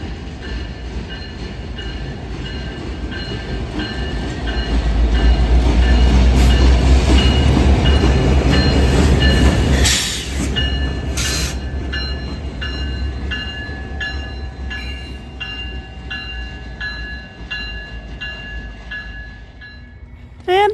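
Canadian Pacific freight train I-72's locomotives rumble into a rail yard, a loud sustained drone swelling in the middle with steady tonal whine and clanking metal overtones, then easing off.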